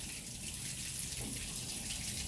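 Water gushing steadily from a tap after a well pump was repaired following a winter storm, a continuous, even rush with no talk.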